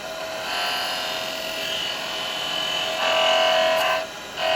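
A spindle gouge cutting beads into a spinning wooden spindle on a lathe, a steady high whirring buzz that rises briefly toward the end.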